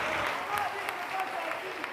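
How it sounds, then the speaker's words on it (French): Studio audience at a Burkina Faso TV variety show applauding hard, a dense, steady wash of clapping that holds at an even level throughout. "on applaudit très très fort"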